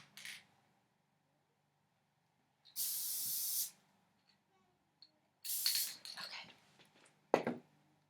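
Short bursts of spray paint hiss from an aerosol can onto cardstock, about three separate sprays of roughly a second each, with small clicks and handling noises between them, close and fairly quiet.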